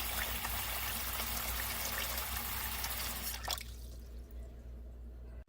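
Water pours steadily into a plaster mug mold, a continuous trickling splash for a few seconds that abruptly stops, leaving near silence.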